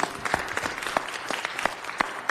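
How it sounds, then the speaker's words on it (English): Applause at a city council meeting welcoming Christine Mulholland, a modest group clapping steadily with a few sharp, close individual claps standing out. "Let's give her a round of applause."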